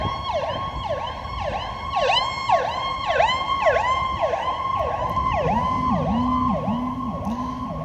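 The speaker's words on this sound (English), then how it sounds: "I'll wait for the ambulance to pass." A wailing ambulance siren cycles rapidly up and down, loud and steady, with a second lower-pitched siren joining toward the end as it passes.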